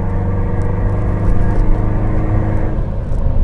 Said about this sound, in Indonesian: Knalpot udah ganti, suaranya masuk dalam.